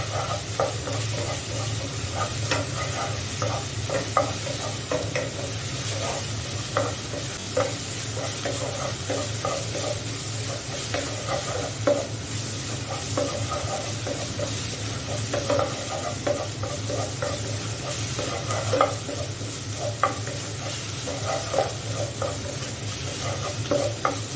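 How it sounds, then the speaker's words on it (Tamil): Ginger garlic paste sautés in a pan for chicken curry, a constant close hiss and sizzle with small bubbling pops running evenly throughout, no voices. "இந்த இஞ்சி பூண்டு பேஸ்ட்டு பச்சை வாசனை போகிறது வரைக்கும் நம்ம இதை வதக்கிக்கிடணும்"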